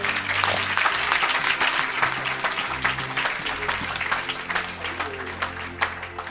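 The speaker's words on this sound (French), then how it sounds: "Quelqu'un acclame le Seigneur." A church congregation claps and cheers for the Lord in dense, continuous applause, many hands close together, with a low murmur of voices underneath.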